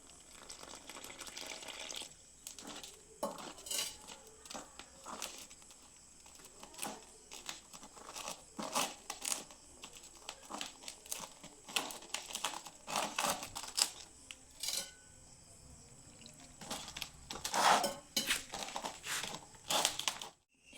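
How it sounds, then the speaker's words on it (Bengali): Flour dough worked by hand with oil and water, making soft, wet squelches and sticky clicks in an uneven rhythm, quiet and close, with no one talking. "এরপর পরিমাণ মতো জল দিয়ে ময়দাটিকে মেখে নিচ্ছি"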